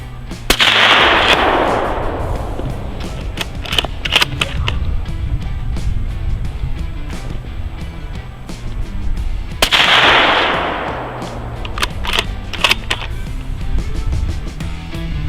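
Two loud shots come from a Ruger Precision Rifle in .308 Winchester fitted with a YHM Bad Larry suppressor, spaced about nine seconds apart. Each has a sharp crack and a rolling outdoor echo, with faint clicks and handling sounds between them.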